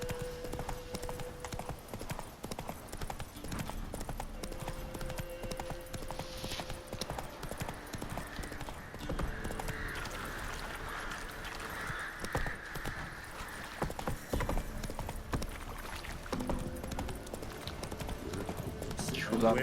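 Horse hooves clip-clop at a trot in the video game The Witcher 3: Wild Hunt, a steady rhythmic patter heard under someone talking and game ambience.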